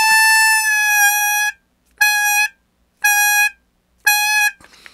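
A harmonica's draw six hole bent down, played as four separate held tones started and stopped by airflow, each clean and steady with short silences between and a faint breathy trail at the end.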